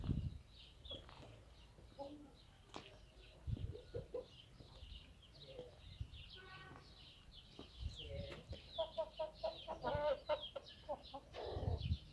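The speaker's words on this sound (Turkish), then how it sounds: "Şu arkadaki horoz, öndeki tavuk." Hens cluck and a rooster calls intermittently among other farmyard birds, moderately near, with a soft murmur of background noise throughout.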